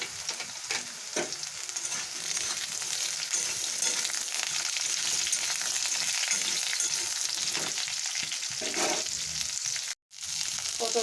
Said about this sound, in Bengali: এবারে আমি কেটে রাখা পটলটাকেও এর সঙ্গে ভেজে নেবো